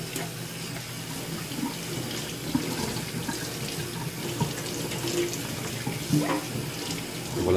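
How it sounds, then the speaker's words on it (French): Warm tap water running steadily over a respirator being rinsed in a sink: a continuous close splashing rush with small shifts as the mask moves under the stream, and no talking. "maintenant, l'étape suivante, c'est un rinçage à fond. Donc encore ici, eau chaude, tiède"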